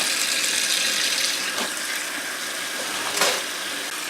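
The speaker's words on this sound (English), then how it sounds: "I have my sink filling up with some cold water" Cold water runs from a tap into a kitchen sink in a steady, rushing hiss, with a couple of brief splashy bumps along the way.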